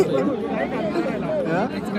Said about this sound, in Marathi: कशी आहे गर्दी तिरुपतीला पण नसते एवढी गर्दी